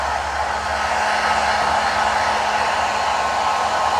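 A pet hair dryer blows continuously while grooming a Yorkie, a loud, steady whooshing hum with a low motor drone and no talk.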